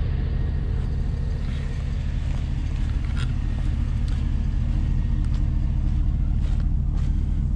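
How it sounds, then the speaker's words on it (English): Cadillac Escalade 6.0 AWD stuck in mud with both rear wheels spinning, a steady loud engine roar and rumble that stays constant throughout, with faint slapping and spattering noises on top. "Both backs were definitely spinning."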